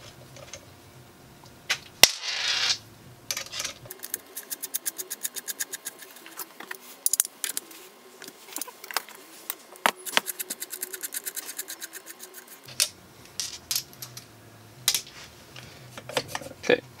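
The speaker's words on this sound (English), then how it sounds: "So now I'm back to where I am screwing in the cam screw." The cam screw being driven into a DB2 diesel injection pump on a workbench: close, sharp ratcheting clicks in rapid runs, separated by pauses and occasional metallic knocks.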